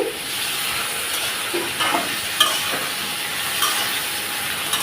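Sliced pointed gourd frying in a pan and being stirred, a continuous close hiss and sizzle broken by occasional spatula scrapes and taps, with no talking.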